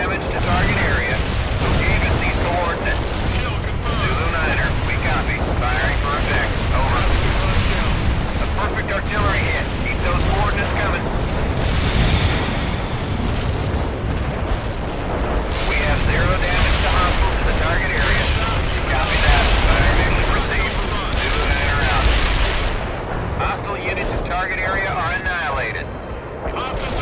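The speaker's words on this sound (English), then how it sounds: "Coordinates locked down. Shells on the way." Artillery shells strike again and again in the World in Conflict battle for Pine Valley: a steady, dense barrage of loud booms and crackling blasts that runs almost without pause, with radio-style voices talking over it.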